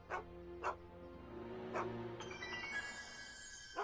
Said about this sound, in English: Officer Parker, that's the stray that keeps escaping the kennel.